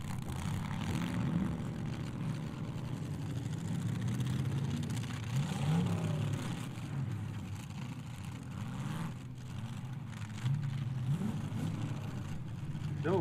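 Demolition derby cars rumble and rev continuously at an outdoor arena, several engines surging and easing together at close to mid range with crowd noise mixed in.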